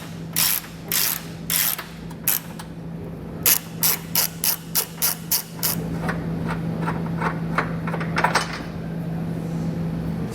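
A ratchet wrench with a 17mm socket clicks in repeated bursts of rapid ratcheting strokes, close and loud, over a steady low electrical hum as a bolt is worked loose while fitting a Roadmaster base plate.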